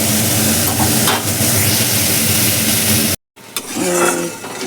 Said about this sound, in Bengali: ভালো করে ভেন্ডিটাকে ভেজে নিই